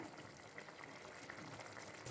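Faint, continuous bubbling and simmering of thick lamb brain gravy in a pan, a soft steady hiss with small pops throughout.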